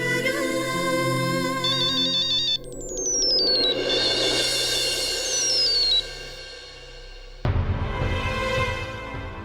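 Mobile phone ringtone sounding during an outgoing call to a relative, with electronic tones and sweeping chimes that drop out and return in sections, steady and fairly loud with no talking.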